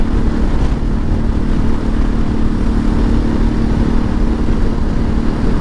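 A Ducati Multistrada 950 motorcycle engine holds steady at around 4000 RPM while riding, a loud, continuous, dense drone with no pauses and no voices.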